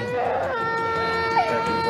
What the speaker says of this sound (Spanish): En el fondo, escucha el llanto desgarrador de niños más pequeños